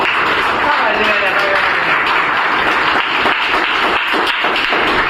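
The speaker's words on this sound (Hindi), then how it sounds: "नीरज भाई के लिए एक बार ताली हो जाए" Loud, continuous clapping from a group during a welder qualification test, with rapid hand claps and some voices mixed into the noise.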